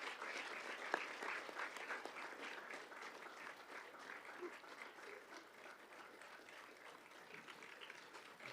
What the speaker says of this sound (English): With a round of applause as he comes.